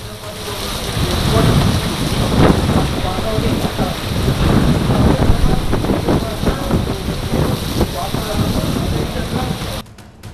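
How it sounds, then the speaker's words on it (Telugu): Heavy rain pours down steadily with low rumbles of thunder rolling beneath it, loud and close, with gusts buffeting the microphone. "ముందుగానే వాతావరణ శాఖ సూచించినట్టుగానే భారీ వర్షం కురుస్తోంది"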